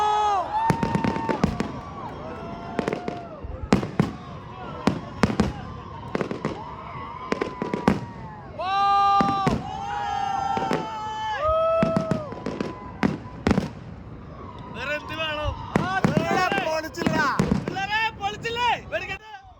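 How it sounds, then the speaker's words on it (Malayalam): Fireworks at a Thrissur Pooram festival display in Dubai booming and crackling in rapid bursts with whistling rockets rising, loud and continuous, while a crowd cheers and voices talk throughout. "സാമ്പിൾ വെടിക്കെട്ട് ചരിത്രമാകുന്നു"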